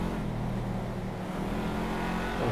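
Racing cars in the video game GTA 5 roar along in a race, with a continuous loud engine drone and steady revving close by and no pauses.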